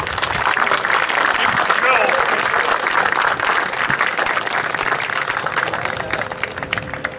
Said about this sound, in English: Could we please have some applause for the Korean War veterans?